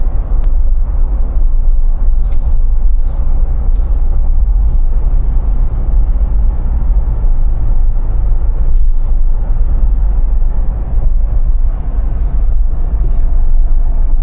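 A Ford Bronco engine idles with a deep, steady rumble, loud and continuous throughout, with no voices.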